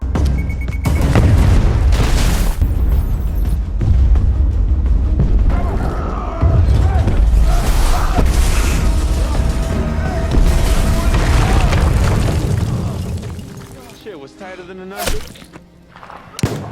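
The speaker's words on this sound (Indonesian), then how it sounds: "satu anggota kartel berhasil kabur lalu berusaha meledakkan bom yang sudah mereka pasang" A film scene where a cartel bomb detonates near a border setting: loud sustained booming and heavy rumbling explosions with debris and thuds, fading after about thirteen seconds into scattered softer impacts.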